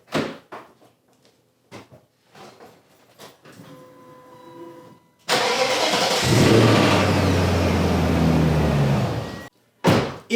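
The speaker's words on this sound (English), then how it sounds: "Have you ever started your BMW and heard this?" A BMW M62 V8 engine with worn timing chain guides starting up, preceded by clicks and a short whirring hum, then a loud cranking catch into a steady idle with a metallic chain rattle, cutting off before a final brief burst.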